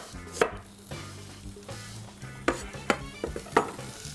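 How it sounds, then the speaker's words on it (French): Smoked sausages sliced with a knife on a cutting board, a handful of sharp, close knocks at irregular intervals over a low background hum. "on va couper les saucisses pour les faire revenir"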